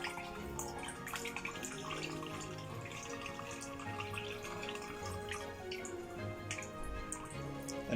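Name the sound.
water running while rinsing blanched spinach in ice water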